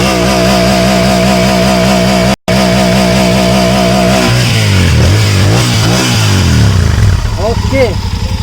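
A Hyosung GT250R and a Royal Enfield Continental GT 650 motorcycle exhaust: a steady pulsing idle cut by a brief gap, then sharp rising and falling revs, loud and close.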